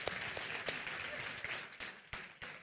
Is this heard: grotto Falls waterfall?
no